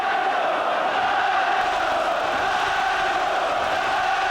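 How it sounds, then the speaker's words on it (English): Boxing arena crowd chanting "Nigel" to urge Benn on, a dense, loud wash of massed voices roaring steadily and continuously. "Crowd trying to urge Ben on with chants of Nigel"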